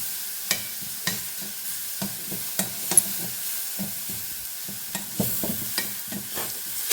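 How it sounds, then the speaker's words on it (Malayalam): A ridge gourd stir-fry is stirred in a pan over a low sizzle. Close, rhythmic scraping strokes come roughly every half second, with occasional light clacks of the utensil. "ഒന്നുകൂടി ഇളക്കാം."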